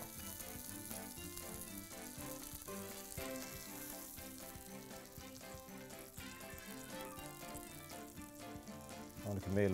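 Sausages sizzle and crackle steadily in a hot pan, a dense frying hiss that runs unbroken with a slight rise at the end, while music plays underneath.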